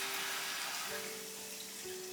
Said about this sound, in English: we add a little bit of water